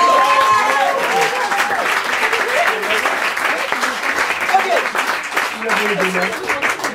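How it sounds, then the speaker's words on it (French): Audience at an improv theatre show applauding, steady dense clapping throughout while a voice speaks over it. "on peut les applaudir"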